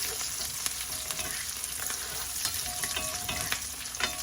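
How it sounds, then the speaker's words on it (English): Shrimp fried rice with chicken and a little parsley sizzles steadily in a pan while being stirred, with a constant frying hiss and repeated soft scraping clicks of the utensil. "And stir it up."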